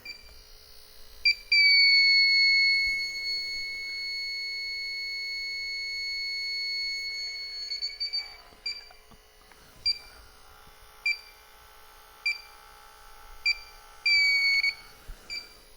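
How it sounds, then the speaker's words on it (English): A Testo 316-3 refrigerant leak detector senses an R-410A leak at 225 psi, giving a long sustained high electronic tone followed by a run of quick, evenly repeated beeps, clear and close with no talk. "The Testo seems to be finding the leak just fine."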